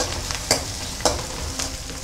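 Onion and curry leaves sizzle steadily in hot oil for a vegetable curry, a dense continuous frying hiss broken by a few sharp stirring clinks from a utensil against the pan.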